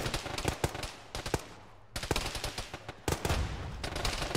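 Bursts of automatic and single-shot gunfire ring out in a ShackTac military game battle, sharp cracks clustering in rapid volleys with brief lulls, some shots loud and close, others more distant.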